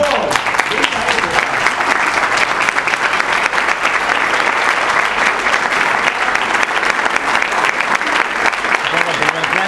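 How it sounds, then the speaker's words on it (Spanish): Sustained audience applause from a room full of people at a university presentation, dense and steady clapping with some talk mixed in underneath, loud and continuous throughout. "para mí se merece un aplauso"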